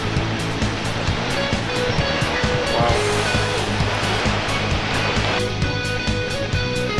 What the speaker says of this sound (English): There's also a water feature.